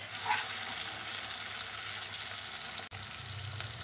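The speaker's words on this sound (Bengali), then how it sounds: "আলু আর টমেটো কিছুক্ষণ নেড়ে নিয়েছি, এখন দিচ্ছি আদা রসুনের পেস্ট।" Ginger garlic paste sizzles in a pan of frying potatoes and tomatoes, a loud, dense, steady hiss close up, with a brief dip before the crackling carries on.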